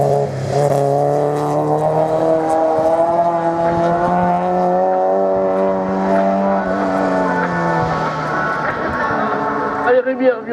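Race car at a regional hill climb in Hébécrevon, engine howling loud and steady at high revs as it climbs, pitch gently rising and dipping through gears, with a commentator talking over it.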